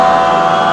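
Artificial exhaust sound from a Komaki Ranger electric cruiser bike's speaker, a steady loud droning tone held without a break, with no talk over it.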